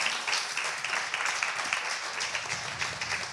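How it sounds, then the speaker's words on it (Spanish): An audience at a rural development debate under a tent in Ponferrada breaks into strong, dense applause, sustained and even throughout with no voices over it. "Un fuerte aplauso, claro que sí."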